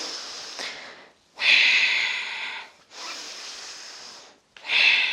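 Deep yoga breaths drawn in and let out through the nose, three long airy inhales and exhales close to the microphone, with no talking.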